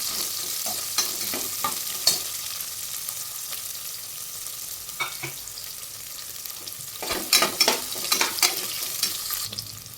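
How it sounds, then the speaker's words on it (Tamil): Chopped large onions sizzle steadily in a pan, with repeated scraping and stirring clatters from a spoon; no voices. "கொஞ்சம் நல்லா போட்டு ஃப்ரை பண்ணிக்கலாம்."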